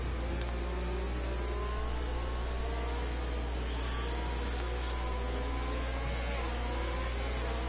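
F1 cars at the race start in a video game in Russia, a dense, loud wall of many engines revving and whining together, steady throughout with a deep constant hum beneath.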